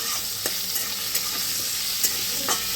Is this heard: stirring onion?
yes